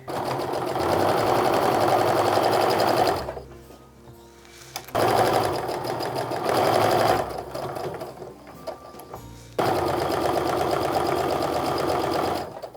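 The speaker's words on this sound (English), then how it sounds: "then I can sew on without having to worry about anything getting off" A sewing machine stitches quilt patches for a charm-pack Christmas stocking in three loud, steady runs of rapid mechanical whirring, separated by short quiet pauses.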